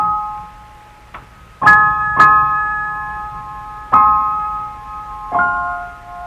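Falling swan motif from Wagner's opera Lohengrin, bright bell-like orchestral chords struck one after another in a slow descending line, each ringing on and fading, with no voices.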